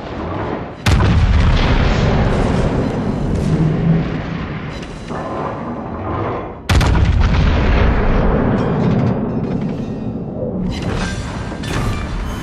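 A battleship being destroyed in World of Warships, two huge sudden booms several seconds apart, each followed by long rumbling blast decay and crackling debris in a loud naval battle.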